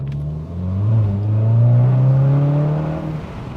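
A VW Golf GTI Mk7 hot hatch accelerates hard, its engine note climbing steadily in a loud, close, sustained rise with no talking over it.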